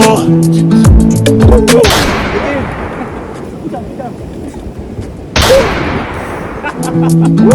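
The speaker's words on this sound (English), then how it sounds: "Let me load the cannon." A British cannon at a Cameroon heritage site fires in a loud, close boom that rolls off into a long fading rumble, followed by a second blast, with voices talking around the shots.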